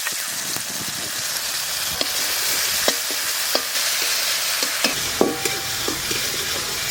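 Ginger paste with a little salt is stirred in a hot frying pan, giving a steady close sizzle broken by sharp spatula scrapes and clicks against the pan.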